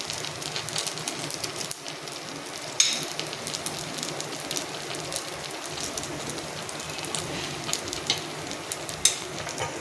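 Mamra appam, a puffed-rice appam, frying in oil in a pan, giving a steady close crackling sizzle with scattered louder pops throughout.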